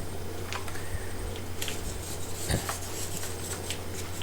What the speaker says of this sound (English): The wet mud is easier to scrape off.